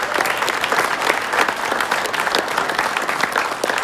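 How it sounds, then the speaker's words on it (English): A crowd at an outdoor pro-Second Amendment rally in Virginia claps loudly, sustained applause from many people filling the whole stretch at an even level. "Let's give them a round of applause."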